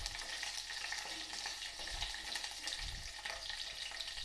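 Spices and dry chillies crackle in hot oil for a tomato rasam tempering in a pan on a gas stove at low flame, a soft, steady, faint sizzle with no talking.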